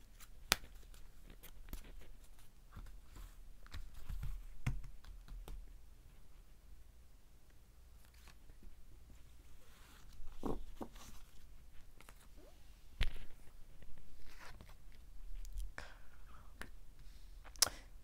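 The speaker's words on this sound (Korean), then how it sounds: "3번 분들도 어떻게 하면 좋을지 조언 카드 한 장 더 뽑아보도록 할게요" Tarot cards rustle and snap in soft, irregular bursts as a deck is shuffled and a card is drawn, close-up and quiet, with scattered clicks and slides and no talking.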